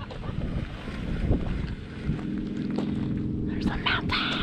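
Strong desert wind buffets the microphone in gusty, roaring bursts. A voice speaks briefly under the blustery noise.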